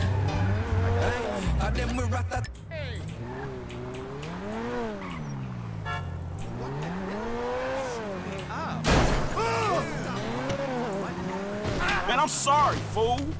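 Car driven in the video game GTA V, engine revving up and down with wavering pitch, tires squealing and a crash-like thump, while someone talks excitedly over it.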